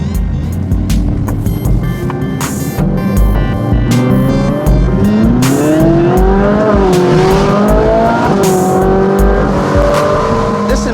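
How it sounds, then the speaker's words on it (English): The speaker's daily commuter car drives and revs hard, engine pitch sweeping up through gears with rising and falling tones, loud and close, with bursts of wind or road noise and some talking mixed in. "This is my commuter car"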